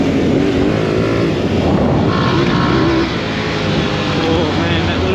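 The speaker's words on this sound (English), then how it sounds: "that little 659cc parallel twin. Oh, it likes the rev." An Aprilia Tuareg 660 motorcycle's 659cc parallel-twin engine revs under riding wind, a loud continuous drone that rises in pitch and then eases, heard close from on board.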